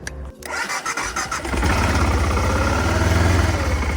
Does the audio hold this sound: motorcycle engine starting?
yes